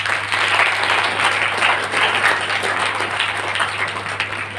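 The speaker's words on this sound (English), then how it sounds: "can we have a round of applause for that?" A round of audience applause at an entrepreneurship skills session in a university hall, many hands clapping in a continuous, fairly loud wash that tapers slightly at the end, with a steady low hum underneath.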